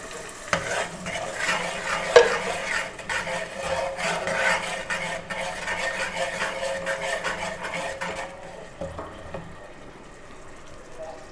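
Garlic and tomato paste sizzle and fry in a pan for a potato curry with stirring scrapes, a steady close sizzle that drops away near the end.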